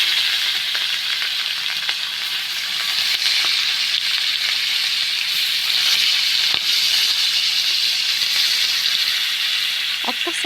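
Rohu fish heads fry in hot oil in a wok, giving a loud, steady, continuous sizzling hiss throughout, with faint occasional clinks and no voices.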